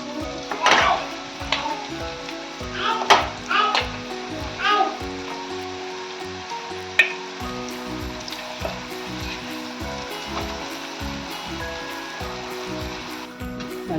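Country chicken hits a pan with turmeric and mint and sizzles steadily, with stirring clatter and spoon knocks; a child's and an adult's voices talk over the frying at times.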